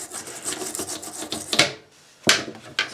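A brush scrubbing a bathroom faucet, close rhythmic scratchy strokes broken by a short pause, then quick sharp scrubs.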